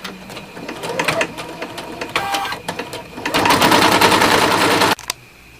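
A single needle embroidery machine stitches a hat in rapid, rhythmic mechanical bursts. The runs grow longer and louder, then stop abruptly near the end, leaving a quiet hum.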